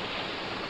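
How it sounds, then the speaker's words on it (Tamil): River water poured out in the Multi Craft block-building game, a steady rushing, splashing wash of noise that holds even and fairly loud for under a second with no voices. "ஊத்துறேன் ரிவர் வாட்டர்"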